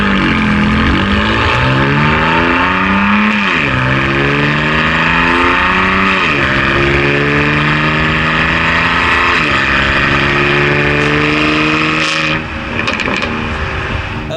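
A BMW M4 with a twin-turbo straight-six and twin exhaust pods revs hard through repeated gear pulls, a loud, raspy exhaust note rising and dropping in a continuous close-up run of about fifteen seconds.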